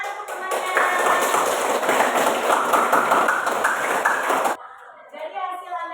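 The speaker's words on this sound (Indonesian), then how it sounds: "Ya, tepuk tangan untuk temannya." A school class applauds a classmate: a burst of brisk, crowded clapping that runs for several seconds and cuts off abruptly, followed by a brief speaking voice.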